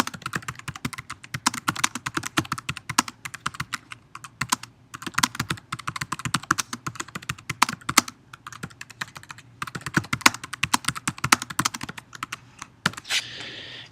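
Fast typing on a computer keyboard, close and crisp clicks in steady bursts with brief pauses, continuing with no voices.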